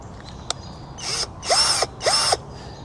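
A Sundpey 21V cordless drill in first speed, close and loud: a brief whir, then two firm bursts with audible motor spin-up and wind-down, short pauses between them.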